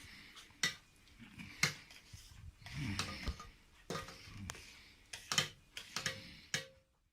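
A spoon scrapes and clinks against a pot, stirring sugar into a grape mixture for syrup in quiet, irregular taps and knocks, close and soft.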